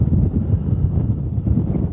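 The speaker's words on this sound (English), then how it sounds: "It's pretty windy today." Strong wind buffeting a Rode Wireless microphone outdoors in an onion field, low rumbling gusts that roar continuously and close, with no voices over it.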